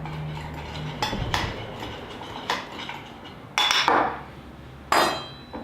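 A spoon clinks and scrapes against a bowl while a smoked paprika spice rub is mixed, giving a handful of sharp, irregular metallic taps with quiet pauses between them, close and fairly soft.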